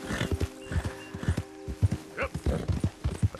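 Horse hooves clip-clop in a steady rhythm with a brief whinny in the Red Dead Redemption 2 game world, close and moderately loud, with some background game sounds.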